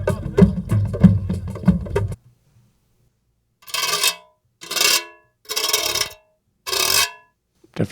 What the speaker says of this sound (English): Definitely a grater.